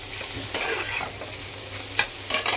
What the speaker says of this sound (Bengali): মশলার সাথে ভালো করে ভেজে নিচ্ছি।